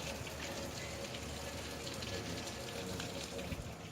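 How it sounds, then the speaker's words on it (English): Heavy rain falling outdoors among trees in Oregon, a dense, even hiss of drops hitting surfaces, steady and faint throughout. "this is the best rain in the world. A lot of rain, too."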